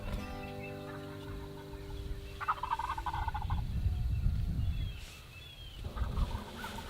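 Two wild turkeys gobble back and forth in the woods, their rattling gobbles ringing out at moderate distance one after another, over a quiet backdrop of other birds chirping.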